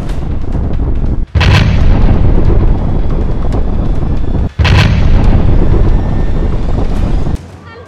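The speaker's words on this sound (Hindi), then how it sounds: "टैंकों की गर्जन, इसराइल और गाजा की जंग में 24 दिन बाद भी यही चल रहा है।" Tanks firing during the Israel-Gaza war: a loud, continuous roaring rumble broken by two sharp, powerful blasts a few seconds apart.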